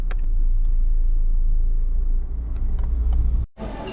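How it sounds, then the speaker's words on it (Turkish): Road traffic rumbles from inside a moving car, a loud steady low drone with faint clicks, cutting off briefly before resuming. "Trafik başladı bile."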